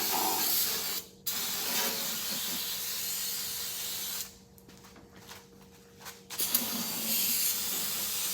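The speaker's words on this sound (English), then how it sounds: "What would the world be without brake cleaner?" Brake cleaner sprayed from an aerosol can under a 1993 NASCAR Thunderbird to clean transmission lines, loud close hissing bursts broken by short pauses, with a steady tonal hum in the background.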